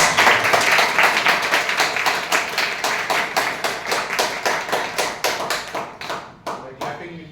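Audience clapping at a winter gathering, a steady run of sharp, evenly spaced claps close by that thin out and slow toward the end.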